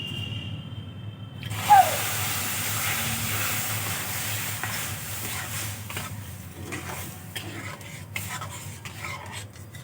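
Semolina and milk being stirred into a dough for a Bengali pitha, a soft continuous scraping and swishing of a spoon in a pan, steady and close, with a brief clink near the start and no talk.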